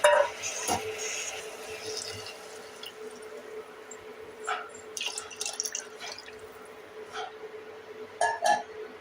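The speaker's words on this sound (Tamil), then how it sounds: "இதில் 2 மடங்கு தண்ணி விட்டுடலாம்." Water is poured into a pot of washed rice and lentils, with trickling drips and small glassy clinks scattered through a quiet kitchen, brief splashes near the start and end.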